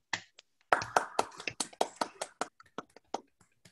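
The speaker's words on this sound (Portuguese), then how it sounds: "Nós vamos saudar, então, a nossa bandeira com suas palmas, por favor" Hands clap in a live meeting of a Rotary club, a crowd saluting the flag, the claps falling in quick irregular bursts, fairly close and clear, thinning out toward the end.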